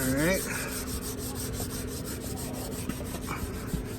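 A Scotch-Brite pad rubs aluminum engine head parts coated with WD-40, quick repeated close scrubbing strokes in a steady rhythm with a short squeak near the start and no speech.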